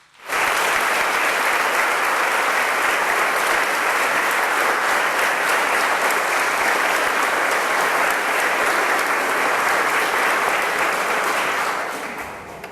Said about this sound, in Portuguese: Um aplauso para todos eles.